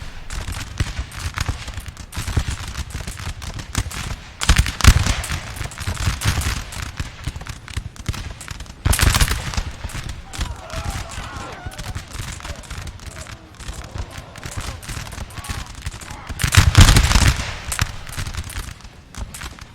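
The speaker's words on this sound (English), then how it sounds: "The guard firing off." Imperial Guard musket volleys in a Napoleon Total War multiplayer battle crack out as loud rolling bursts at a few spaced moments over steady battle noise, with a commentator talking throughout.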